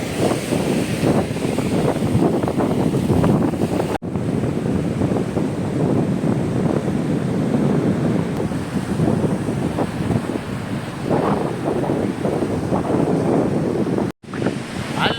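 Surf rolls and roars continuously nearby, with heavy wind buffeting the microphone and a couple of brief cut-outs.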